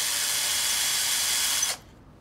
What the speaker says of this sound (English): we just need to run the two bolts up through here and clamp it all together